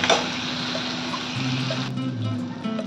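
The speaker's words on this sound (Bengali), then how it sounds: "আলুগুলোকে দিয়ে একটু মশলার সঙ্গে কষিয়ে নেবো" Potatoes sauté in hot spiced oil, a short, close, fairly loud sizzle with a steady hiss and faint low hum, no voices present.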